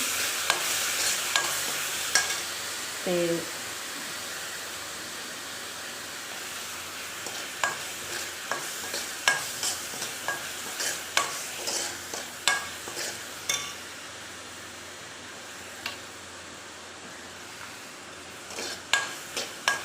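Steady frying sizzle of chilli, ginger and onion tempering in oil fills the background while a spoon or ladle clinks and scrapes against a pan in irregular taps, with no one speaking.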